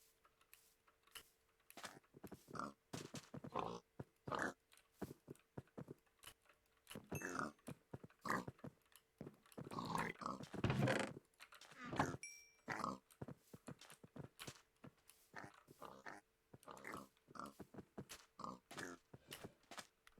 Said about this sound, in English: Let me go ahead and actually breed the pigs up first.